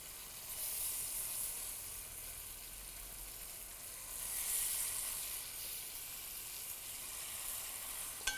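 Chicken pieces sizzle and fry steadily in a hot pan for Indian pepper chicken fry, a continuous close hiss that swells briefly midway, with faint stirring and no talking.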